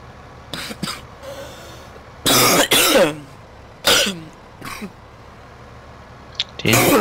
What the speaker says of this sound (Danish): Og ja, det er en frygtelig host, jeg har.